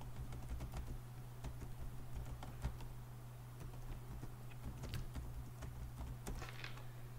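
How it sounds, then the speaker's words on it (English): Someone types an email address on a computer keyboard, giving quiet, irregular key clicks over a steady low electrical hum, with no talking. "just type in your email over here"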